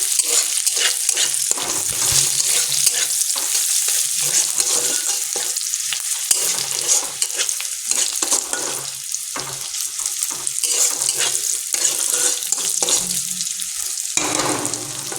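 Chopped onion frying in a pan for pasta while a utensil stirs it, a continuous sizzle broken by frequent scraping stirs, close and fairly loud with no talking.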